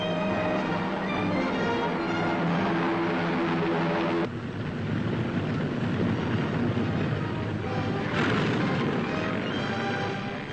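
1940s Lend-Lease military aircraft taking off on the Alaska–Siberia route to Russia, a loud, steady propeller-engine roar that holds and shifts slightly in tone as it powers up.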